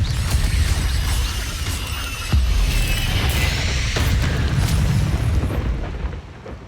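Booming spell explosions from the Confringo fire curse in Hogwarts Legacy, a loud sustained roar of blasts with sharp crashing bursts layered over one another, no talking.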